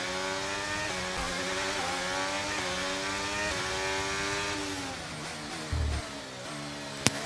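An F1 23 race car in a video game rides over a kerb, its high engine whine climbing and dipping through gear changes under a brief rough thud, ending with a sharp click.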